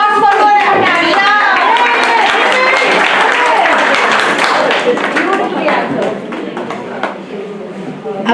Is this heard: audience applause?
yes